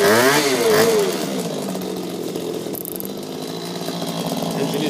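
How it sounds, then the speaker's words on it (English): A Goped scooter's small two-stroke engine is revved while the scooter is propped up, rising in pitch, then holding a loud, raspy buzzing idle close to the listener. "I'm going to put it up so I can just rev it a little bit"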